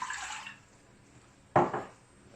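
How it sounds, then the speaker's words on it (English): A glass of water poured into a steamer pot in a home kitchen, ready for steaming marinated chicken: two short, splashy bursts of liquid with a quiet pause between, close and moderately loud. "add a glass of water"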